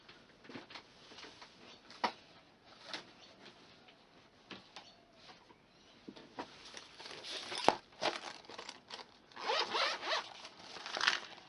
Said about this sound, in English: Open up my tool holder, out with my scissors and my snail.